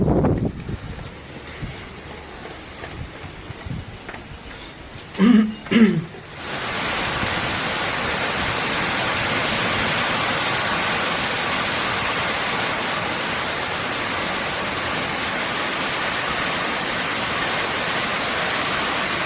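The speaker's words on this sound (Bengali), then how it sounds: "এটা কি মেঘ ভাঙা বৃষ্টি শুরু হলো?" Heavy cloudburst rain and gusting wind roar in a dense, constant wash after a few brief knocks, filling the rest of the clip without letup, in Bardhaman town.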